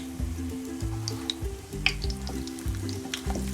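A cheese potato pancake frying in a pan, crackling and sizzling softly up close, with light spatula stirring clicks and background music playing beneath.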